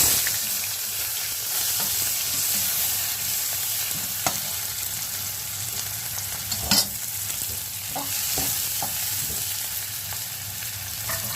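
Onion and green chilies fry in hot oil in a kadhai for mix bhaji, a steady close sizzle with a few stirring scrapes and clinks, no voices.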